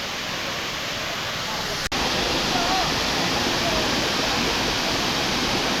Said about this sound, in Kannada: ಅದರಿಂದ ಅದು ಫಾಲ್ಸ್ ನೀರು ಎಷ್ಟು ನೀಟಾಗಿ ಬಿದ್ದು ಫಾಲ್ಸ್ ಥರ ಕಾಣ್ತಾ ಇದೆ